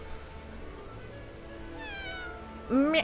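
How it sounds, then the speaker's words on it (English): A pet cat lets out one loud, rising meow close by near the end, after a stretch of quiet room background with faint game sound. "Oh my goodness, that was a loud cat."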